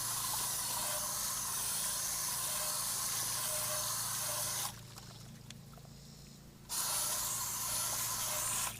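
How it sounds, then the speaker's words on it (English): A hose sprays water onto a car wheel, a loud, steady hiss that cuts out for about two seconds and then resumes. "we're going to hose the wheel down"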